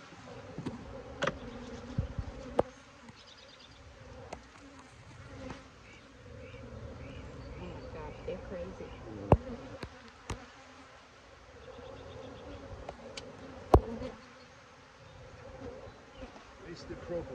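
Honey bees buzz steadily around open hives during a spring hive inspection, a continuous drone of many insects with occasional sharp knocks and clicks from handling gear, and people talk quietly over it.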